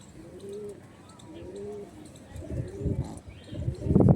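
Old-line Madrasi breeder pigeons coo softly in repeated low, throaty phrases, with faint background rustling and a louder thump near the end.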